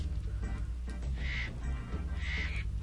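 A bird enemy in the Spyro video game lets out two harsh, quacking squawks about a second apart over a continuous low game soundtrack.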